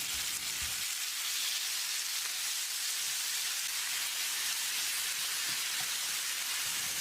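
Chopped tomatoes sauté in a pan with onions and curry leaves, giving a steady, bright sizzle that runs continuously with a few soft stirring knocks near the start, close and alone.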